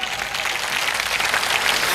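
An audience at a Hindi poetry recital breaks into steady, sustained applause, a dense wash of many hands clapping at once without pause.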